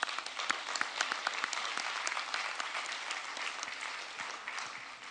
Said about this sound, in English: Yes, do applaud that. I think it's worth applause.